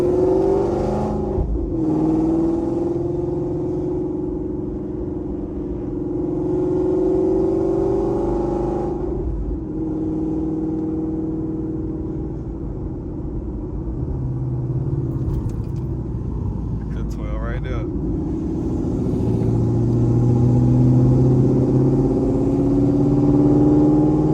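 Ford Mustang engine revving hard and accelerating from inside the car, a loud continuous roar that climbs and drops through gear changes, with a sharp surge near the end and no talking.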